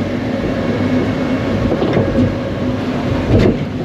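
A continuous loud rumbling roar with clattering as a roller coaster train rushes past on its track, nearly 30 metres tall, at Skyline Park in Allgäu, steady for several seconds.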